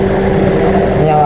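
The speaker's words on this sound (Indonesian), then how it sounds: "Setelah mesin mobil dihidupkan" A car engine idles with a steady, even hum that holds constant throughout, close by and fairly loud.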